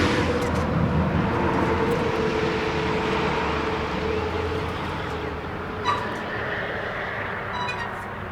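A Buick car rolls off a trailer, giving a steady low engine-like rumble and broadband road noise throughout, with a brief clunk near the end.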